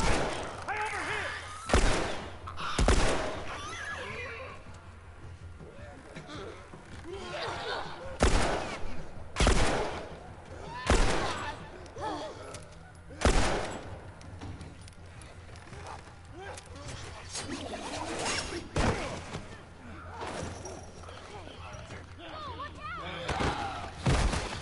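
Video game gunfire in The Last of Us, repeated sharp shots spaced irregularly across the stretch, loud bursts over a steady background with a player talking throughout.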